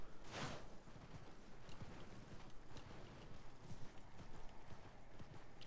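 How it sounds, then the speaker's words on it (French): Steady rhythmic hoofbeats of a horse in Elden Ring clip-clopping along, continuous and fairly close, with a brief whoosh near the start and no talking. "on va prendre son cheval quand même"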